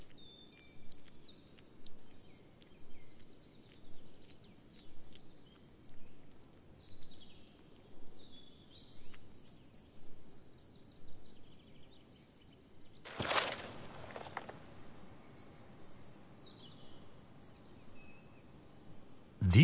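Marsh grasshopper stridulating in a moor, rapid rhythmic chirping bursts repeating every second or two at moderate distance, with a brief crackling disturbance near the end.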